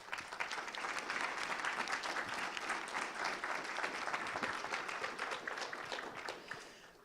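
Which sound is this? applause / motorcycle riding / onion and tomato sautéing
applause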